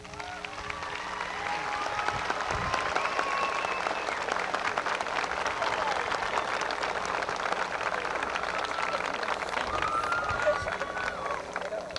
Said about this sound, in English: Let's express our pride in them by a good round of applause